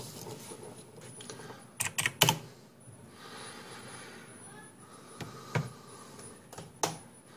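Someone tests a mechanical keyboard before fitting its screws, typing in sparse clusters of sharp clicks and key strikes with quiet pauses between bursts.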